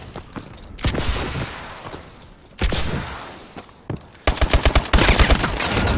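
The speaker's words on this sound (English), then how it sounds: "See if we can get any kills with this shotgun." In Call of Duty: Advanced Warfare multiplayer, shotgun fire cracks close and loud in single heavy blasts, then gives way to a fast rattling burst of rapid shots near the end.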